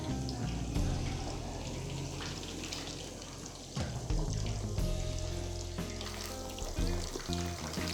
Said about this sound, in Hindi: अब इसको फ्राई करेंगे। मीडियम फ्लेम पे इसको फ्राई करें।